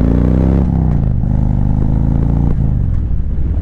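Harley-Davidson Road King motorcycle cruising through town at night, its loud, steady V-twin engine rumbling close by with slight shifts in pitch and no talking.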